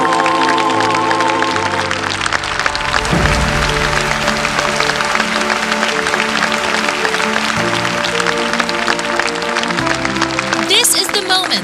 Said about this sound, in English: Everyone, please stand up and welcome them with a big round of applause.